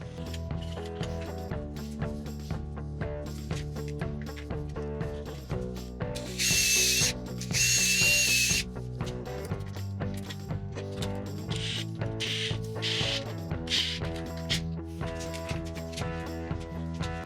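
Drilling holes for a drawer handle in a shop, a drill whirring with a ratcheting, geared clatter in repeated short bursts, including two longer high-pitched runs, fairly quiet and with no talk.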